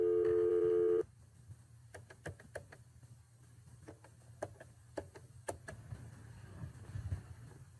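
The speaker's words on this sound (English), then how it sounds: "I'm dialing the phone number." A telephone dial tone stops after a second. A run of sharp, separate clicks follows as a phone number is keyed in, quiet and close against a low background hum.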